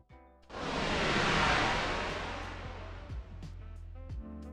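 A whoosh built from processed noise with chorus, pitch-down, high-frequency filtering and reverb swells in quickly, peaks, then slowly decays into a soft airy tail, heard alone against faint background tones.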